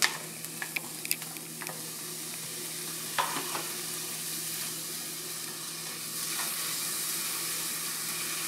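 Marinated mushrooms hit a hot pan and sizzle steadily, with a few sharp clicks and scrapes of stirring near the start and around the middle, then a continuous soft frying hiss.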